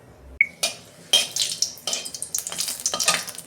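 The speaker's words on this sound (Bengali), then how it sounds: "তেল দিচ্ছি, আমি একটা ফোড়ন দেবো। একটা শুকনো লঙ্কা" A dried red chilli drops into hot oil to temper cooked dal. A sharp clink is followed by a rising, crackling sizzle, with utensil taps and stirring clatter building into busy close frying.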